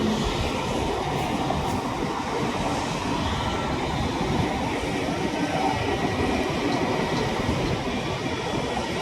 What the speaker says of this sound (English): this Indigo flight, which is a very common occurrence now, is taxiing again towards the domestic terminal